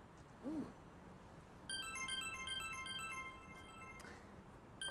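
A phone ringtone starts after a short beep-like sound, playing a repeating electronic melody, fairly quiet and alone for a few seconds.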